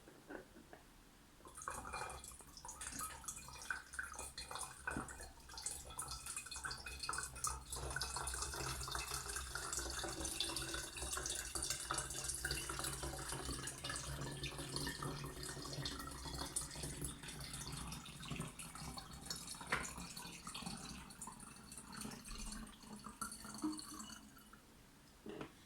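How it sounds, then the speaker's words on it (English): Water slowly poured through a funnel into oil for a homemade lava lamp, a quiet continuous trickle and splashy dripping of liquid lasting over twenty seconds, faint and close, with no talk. "I'm going to start slowly add the water to the oil"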